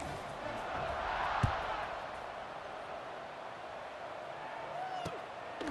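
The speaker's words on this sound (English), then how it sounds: "this crowd is buzzing after that last score" A stadium crowd buzzes in EA Sports College Football 26 after a touchdown: a steady, faint, distant murmur of cheering with a couple of sharp thuds, sitting under play-by-play commentary.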